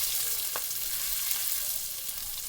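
Spicy squirrel meat fries in hot butter in a pan, a steady close sizzle with faint crackle and one brief clink, no talking.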